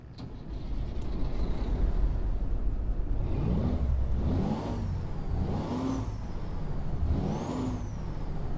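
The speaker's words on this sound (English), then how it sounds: "Jump on the outside and start her up." A Caterpillar C15 diesel truck engine in American Truck Simulator cranks and settles into a steady, loud idle with repeated swells in revving, heard alone without talk.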